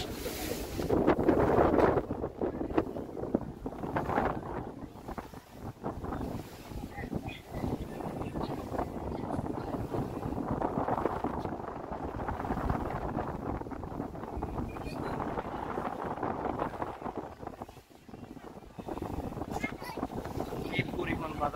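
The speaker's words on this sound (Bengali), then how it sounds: "দেখেন কি পরিমাণ বাতাস।" Strong wind buffets the open deck of a river launch travelling from Dhaka to Barisal, a steady roaring gust noise with wave wash beneath, loud and continuous throughout as someone speaks over it.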